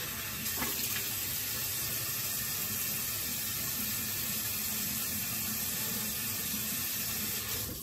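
A wet-shaving razor is rinsed under a running tap: a steady, close broadband rush of water into a sink that continues throughout with a faint high whine in the background.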